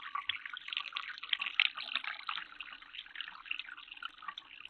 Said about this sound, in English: Multiple thin streams of water run into the container below, slowing to a steady drip.